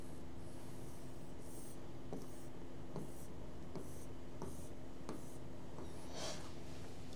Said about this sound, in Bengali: আমি আগে টেবিলটা একটু লিখে নিই